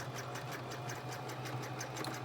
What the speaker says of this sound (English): and I'm gonna continue sewing.